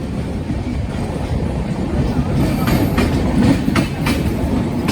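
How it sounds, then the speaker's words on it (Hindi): The Bhopal Shatabdi Express, an Indian Railways train, arrives at Gwalior Junction with a steady loud rumble and a rhythmic clickety-clack of wheels over rail joints, continuous throughout. "अब आपको दिखाता हूँ भारतीय रेलवे की सबसे पहली और फास्टेस्ट शताब्दी एक्सप्रेस, भोपाल शताब्दी"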